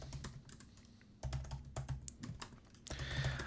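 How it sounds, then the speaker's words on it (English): Keystrokes on a computer keyboard, typing out section names in an Ableton 12 music session, with quick clustered taps, short pauses and a denser burst at the end, close and clear. "so I go ahead and type them all the way out"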